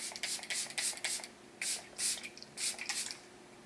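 Fine face prep and setting mist sprayed from a spray bottle in a series of quick close hissing bursts, several in a row with short pauses between them.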